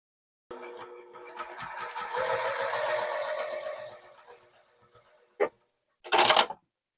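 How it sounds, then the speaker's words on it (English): Sewing machine joining quilt block rows, a close rattling stitch run of a few seconds followed by two short separate bursts after brief pauses. "Then I'm going to come back and sew together the rows."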